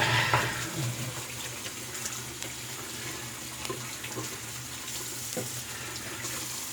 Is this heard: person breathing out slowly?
no